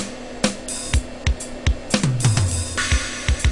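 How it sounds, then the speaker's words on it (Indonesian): A programmed electronic drum beat in Sonar with random timing enabled through a MIDI effect, punchy kicks and sharp hits landing at uneven, irregular intervals, the groove sounding shuffled and unsteady. "Anda dengar bahwa drum saya sudah tidak normal lagi di situ."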